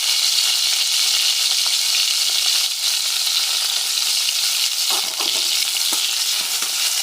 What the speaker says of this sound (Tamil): அந்த நல்லெண்ணெயிலே வதக்கணும்